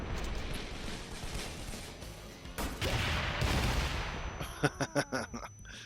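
A grenade blast and gunfire in the cyberpunk action game Wanted: Dead: a sustained rumbling roar swells into a broad explosion, followed by a rapid burst of sharp, evenly spaced gunshots near the end.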